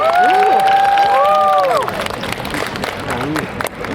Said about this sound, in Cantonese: 大家俾多啲歡呼聲